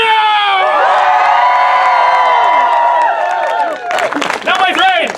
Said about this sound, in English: Hoot, holler, clap, cheer, stomp your feet, whistle